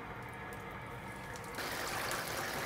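Potato and taro root chips fry in a deep fryer, giving a steady, dense bubbling hiss throughout that grows louder and brighter partway through as more pieces drop into the oil, with no talking.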